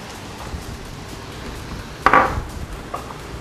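Shrimp sautéing in a pan give off a steady, even sizzle, broken once by a single sharp clatter of a utensil against the pan.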